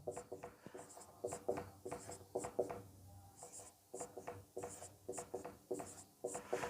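Pen or marker writing a numeral by hand during a math lesson, a run of soft close scratchy strokes in quick uneven bursts, with no talk over it.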